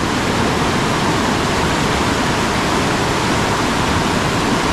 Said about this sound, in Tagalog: ganito nakalakas yung tubig